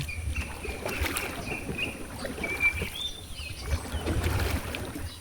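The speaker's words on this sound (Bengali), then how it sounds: "নৌকা চালানো" A wooden boat rowed by hand moves along a river, with soft rhythmic oar splashes and water trickling against the hull, and faint bird calls in the open air.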